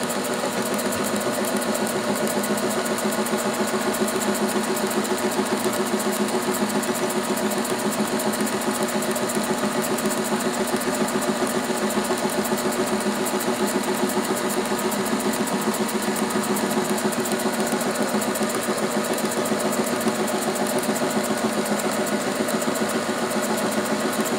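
A sector winding machine, with one belt-head gear removed, runs smoothly at a set speed, giving a steady, even mechanical hum and fine rapid whir that holds unchanged throughout with no voices.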